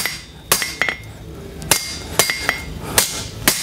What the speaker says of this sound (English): it's going to clean up that work under the hammer